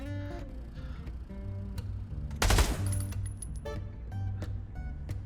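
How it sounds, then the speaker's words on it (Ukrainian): A rifle in Counter-Strike 2 played in virtual reality fires one sharp three-round burst midway, loud against a steady hum of game music and ambience. "А чого він тільки по три пулі стріляє?"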